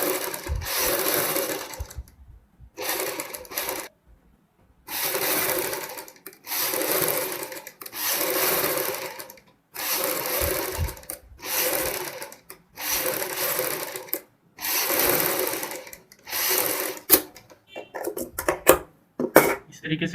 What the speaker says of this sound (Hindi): सेम इसी प्रकार हम दूसरी साइड की ये सिलाई कंप्लीट करेंगे